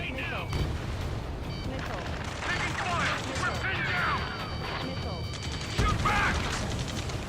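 Chaotic combat din from the Ace Combat 7 video game, with continuous rumbling blasts, crackling bursts and whooshing layered under radio chatter, loud and dense throughout and swelling near the end.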